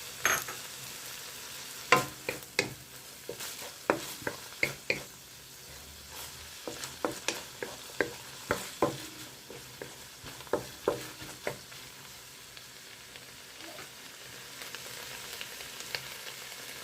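Tuyo, Filipino dried fish, frying in a pan, a faint sizzle under a series of sharp spatula taps and scrapes, close and fairly quiet, coming in irregular bursts.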